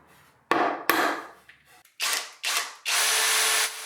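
A power drill bores pilot holes and drives screws into plywood supports in several short, loud bursts, then one longer whirring run, close up with no one speaking.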